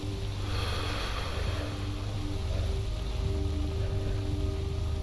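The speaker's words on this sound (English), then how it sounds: "Crazy how much it has been raining." Persistent rainfall in the game S.T.A.L.K.E.R. makes a continuous soft hiss and patter over a low droning background, steady throughout.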